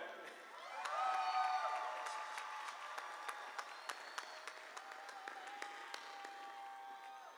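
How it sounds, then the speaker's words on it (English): Graduation commencement audience at Cerritos College applauding after the tassel turn, a broad wash of clapping that swells early then settles, with scattered cheers and whoops over the steady applause. "One more round of applause, go ahead"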